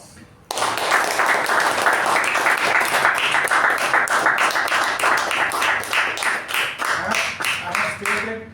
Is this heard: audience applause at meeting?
yes